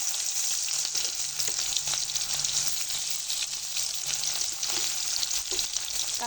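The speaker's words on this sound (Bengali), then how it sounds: "এই তেলের মধ্যেই দিয়ে দেবো পেঁয়াজ কুচি," Chopped onion fries in hot oil left over from frying rohu fish, giving a continuous, moderately loud sizzle with scattered crackles and light stirring scrapes throughout.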